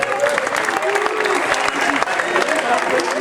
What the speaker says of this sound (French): c'est Jonathan Mambou, que vous pouvez applaudir